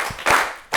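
A few brief, sharp bursts of group clapping from children at an Ethiopian TV quiz competition, close and lively in quick succession.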